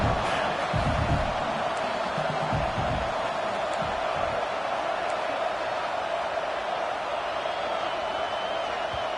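A packed college football stadium crowd at a UCLA game at Cal roars continuously, a loud, dense wall of noise that stays steady throughout.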